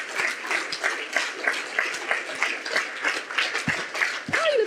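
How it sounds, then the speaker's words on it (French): Applause rises from a small audience at a climate forum: scattered, uneven clapping in loose rhythmic bursts, fairly close, with a brief voice near the end. "Ah, il applaudit."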